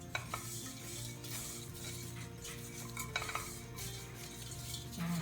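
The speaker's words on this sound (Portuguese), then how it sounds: "A gente continua mexendo só para não queimar." A spatula keeps scraping and stirring crisp bread croutons in a thick-bottomed stainless steel pan with the heat off, steady close scrapes with faint sizzling and occasional metal clinks.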